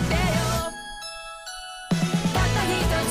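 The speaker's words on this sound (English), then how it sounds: "Is that just some kind of synth? Just like a bell sounding" Bell-like synth tones from a My Hero Academia anime opening song rise step by step in a short, clear run, framed by fuller loud music before and after, with no voices.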